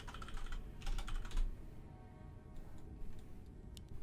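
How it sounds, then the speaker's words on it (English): Quiet clicking of keys on a computer keyboard during a Warcraft III match, a short flurry of taps early on, then sparse faint clicks over a low steady background hum. "I'll even type it for you."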